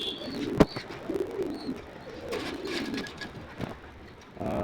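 Soft, low pigeon coos repeating at an easy rhythm nearby in a pigeon loft, with a few sharp clicks and faint chirps in the background.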